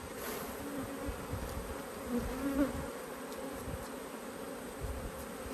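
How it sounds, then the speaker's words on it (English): A dense, steady buzz of agitated honeybees swarms up as a beekeeper shakes bees off a hive frame, close and continuous with no voices. "I'm agitating a lot of bees doing this."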